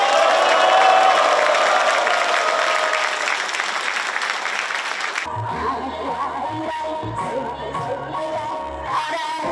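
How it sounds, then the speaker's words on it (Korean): A crowd applauds and cheers at a Korean commemorative ceremony honoring former President Kim Dae-jung, loud continuous clapping for about five seconds before it cuts abruptly to a different, tonal sound. "오늘 이 위대한 시간을 이 자리에 참석한 우리 모두의 박수와 함성으로 함께 열어주시기 바랍니다."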